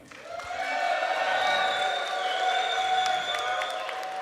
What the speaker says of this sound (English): round of applause based on volume for which is your favorite one